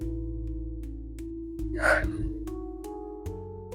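A single audible breath, drawn in and let out, during a calm evening yoga practice at home on a mat, heard close over soft, steady background music.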